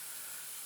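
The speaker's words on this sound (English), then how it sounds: "Airbrush is a beautiful way to paint grass and to blend light colors" An airbrush sprays paint onto model railroad grass beside the track, weathering it with a steady, close, unbroken hiss.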